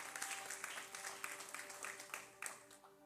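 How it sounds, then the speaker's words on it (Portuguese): A church congregation claps together during a Portuguese-language worship service, a dense, steady wash of many hands with a sustained tonal hum held underneath for about three seconds. "Aplauda o nome do Senhor por essa palavra."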